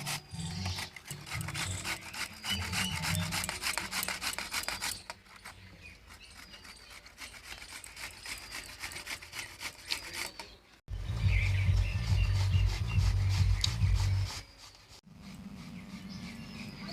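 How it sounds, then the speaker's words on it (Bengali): A carrot is shredded with a kitchen machine while vegetable momos are being made, producing continuous rasping, grinding friction in bursts that change in pitch and loudness, close up, with no talking. "গাজরটা মেশিন দিয়ে কুচিয়ে নিচ্ছি, হাতে কুচালে অত কুচি কুচি করা যাবে না।"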